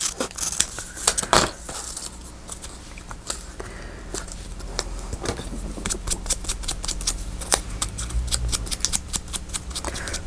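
Paper is torn into small pieces for a collage, heard as a close series of crisp rips and crinkles, irregular and repeated, with brief scratchy bursts throughout.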